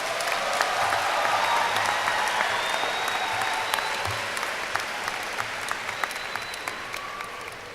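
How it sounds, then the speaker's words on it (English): Audience applause at a UNLV orientation ceremony in 2013: a steady, dense wash of clapping from a large crowd that holds strong throughout and eases off slightly toward the end. "Another round of applause"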